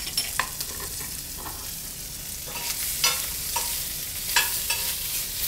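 Shrimp seasoned with salt, pepper and garlic sizzle steadily in a pan, with a few sharp stirring scrapes and clinks rising over the constant close frying hiss; no one speaks.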